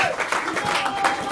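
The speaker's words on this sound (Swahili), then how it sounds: "Makofi kwa Yesu Kristo." Short burst of crowd applause during a funeral service, dense overlapping claps from a gathered congregation, fairly loud and steady with some voices mixed in.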